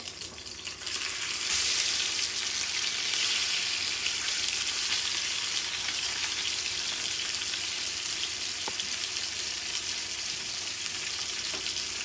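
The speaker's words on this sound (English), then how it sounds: "we're going to go ahead and put the second steak in the pan" A steak sizzling loudly in a hot pan, a steady bright hiss of frying fat that jumps up about a second in and keeps going, with a couple of faint clicks and no voices.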